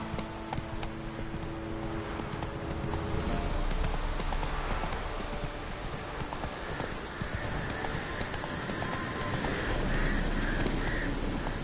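Hooves of Roach, the horse from The Witcher 3, clop steadily at a trot, close and fairly loud. Faint crow caws sound in the background.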